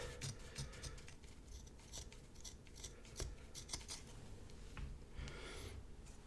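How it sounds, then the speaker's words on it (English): Scissors cutting a hole in a cloth tablecloth, making faint repeated snipping and crisp fabric rustles in quick irregular bursts, close by and alone. "So I'm just cutting a hole in my girlfriend's good tablecloth."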